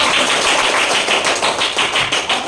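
A classroom of students applauds a student group, a dense, steady patter of many hands clapping at once, fairly loud and continuous with no voices over it.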